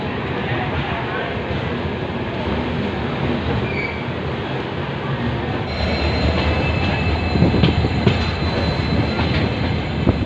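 The Sampark Kranti Express runs from New Delhi to Guwahati near Kishanganj: a continuous loud rumble of rail cars, with wheel squeal and rhythmic clatter growing heavier in the second half.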